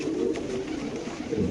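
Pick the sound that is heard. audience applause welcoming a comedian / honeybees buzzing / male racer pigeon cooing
male racer pigeon cooing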